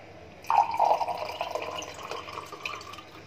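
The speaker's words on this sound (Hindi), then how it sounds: "गिलास में डालेंगे" Homemade raw mango panna drink poured into a glass, a soft steady trickling splash lasting a few seconds, close and fairly quiet with no talking.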